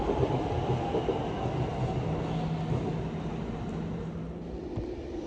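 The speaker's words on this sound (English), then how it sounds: "Here comes the 1407 Avanti West Coast service to Liverpool Lime Street." A passing Avanti West Coast intercity train bound for Liverpool Lime Street rumbles by at Primrose Hill in London, a steady mid-distance roll of wheels and engine that holds level throughout and fades slightly near the end.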